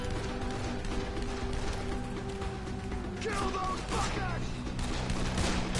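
Gunfire in the Dead Island video game, scattered shots and bursts mixed with game clatter under a steady noisy background, with a voice talking over parts of it.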